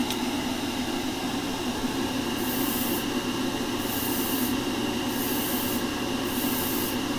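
Fluorescent red paint hisses steadily from a spray can onto a spoon, a continuous close airy spray with faint bursts of brighter hiss.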